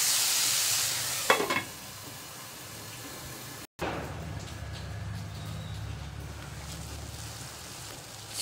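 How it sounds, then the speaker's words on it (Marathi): Finely chopped tomatoes fry in a pan for paneer masala, giving a steady soft sizzle with stirring and scraping sounds, near and moderately quiet, with a brief louder clatter near the start. "याला परत 5 मिनिटासाठी छान असं शिजेपर्यंत आपल्याला असं फ्राय करून घ्यायचे टोमॅटो"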